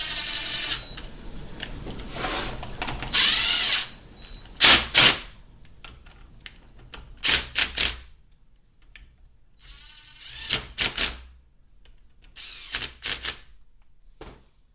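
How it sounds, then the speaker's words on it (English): Tightening bolts on a CD4E transmission pump during a rebuild: close ratchet clicks in quick rapid runs separated by quiet gaps, with faint clinks of metal tools in between. "We first tighten up our bolts."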